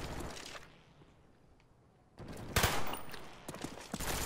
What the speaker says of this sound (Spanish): Disparo yo también.